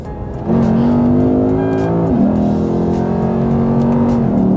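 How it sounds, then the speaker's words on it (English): A 2008 Lexus IS F's V8 engine revs hard and loud under acceleration, its pitch rising steadily, dropping briefly at a gear change, then climbing again. "at any moment you can downshift, floor it"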